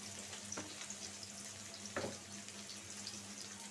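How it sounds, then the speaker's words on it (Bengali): Onions and green chillies frying in hot oil in a wok for a rohu fish and cauliflower curry, a constant close sizzling hiss with a couple of brief clacks of a stirring spoon, no voices. "এখন আমি কড়াইয়ে তেল দিয়ে দিছি, তেলটা গরম হয়ে গেছে। পেঁয়াজ কাঁচামরিচ দিয়ে দিলাম।"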